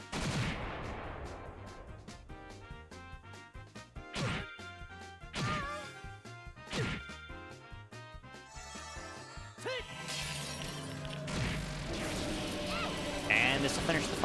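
Cannon area-of-effect attack in the Trails in the Sky role-playing game, a string of sharp, loud impact hits in a steady rhythm, then a rougher crashing burst, with a voice talking through parts of it.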